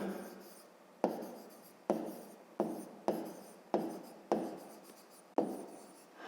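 Pen or pencil writing on paper in short repeated scratchy strokes, about eight bursts that each begin sharply and trail off, close and quiet with no talk, while a fifth-grade geometry exercise on angles is worked through.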